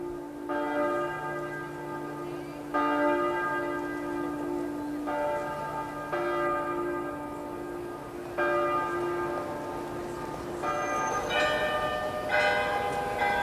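The Glockenspiel bells in the town hall spire at Marienplatz, Munich, ring in repeated melodic phrases, resonant and sustained, carrying clearly over faint square ambience.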